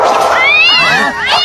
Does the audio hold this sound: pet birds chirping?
no